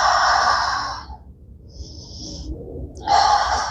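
Slow, deep breathing during a yoga hold: a long breathy exhale, a pause, a softer breath, then another strong airy breath, close and clear with no talk.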